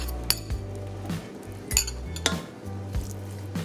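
Utensils clink and scrape against a pot as a prepared mixture is added to water, several sharp metallic chinks spaced irregularly over a low steady background, close and clear with no talking.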